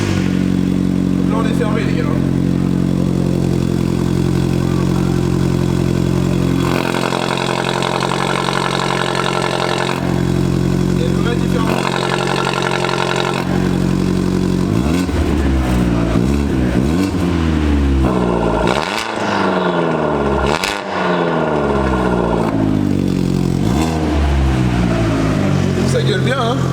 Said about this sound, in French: le pire c'est qu'on n'accélère pas du tout parce qu'on est sur le démarrage à froid